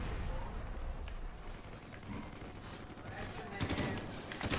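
Burst-fire gun shooting in Call of Duty: Ghosts, clusters of sharp cracks over a busy battle background, with the loudest bursts arriving near the end; a voice talks faintly underneath.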